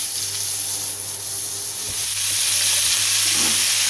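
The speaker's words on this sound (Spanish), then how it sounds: "voy a rehogar los langostinos primero y luego le añadiré el salmón" Prawns sauté in a hot pan, giving a close, steady sizzle and frying hiss that swells slightly toward the end, with no talking.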